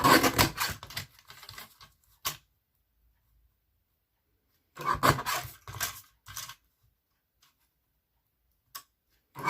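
A paper trimmer slices a cardstock panel down for a handmade birthday card, giving close, dry clicking and scraping bursts at the start and again midway, with quiet pauses and a few isolated ticks.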